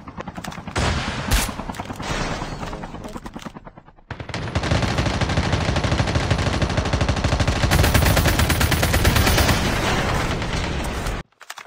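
Video game gunfire rattles out in sustained automatic bursts while engaging enemies, a short volley first, then a brief gap and a long continuous stream of rapid shots, loud and close.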